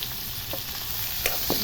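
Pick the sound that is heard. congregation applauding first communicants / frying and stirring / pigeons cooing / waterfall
frying and stirring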